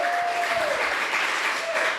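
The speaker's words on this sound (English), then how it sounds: "Everybody give her a big round of applause." Audience applause at a live talk in Bali, a short loud wash of steady clapping lasting about two seconds.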